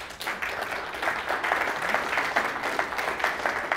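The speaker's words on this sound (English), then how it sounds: "So a big round of applause for all of our sponsors" An audience at an investor day event applauds steadily for the sponsors, a dense, even wash of many hands clapping at moderate distance with no voices over it.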